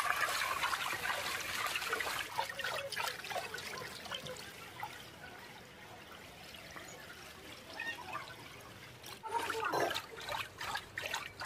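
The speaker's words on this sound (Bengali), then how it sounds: "আইটির বাউন্ডারি ওয়াল ভেদ করে ও নিচ থেকে জলটা এইভাবে আসছে" Floodwater flowing in through a boundary wall and from below in a flooded Kharagpur neighbourhood, a faint steady trickling and pouring stream with brief louder gushes.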